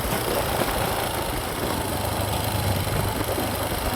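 A motorcycle engine runs steadily on a rural gravel road, a continuous close mid-pitched hum with broadband road and wind noise and no talk.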